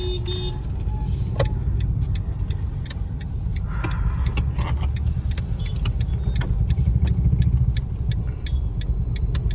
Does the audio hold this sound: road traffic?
yes